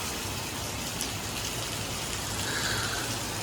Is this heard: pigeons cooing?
no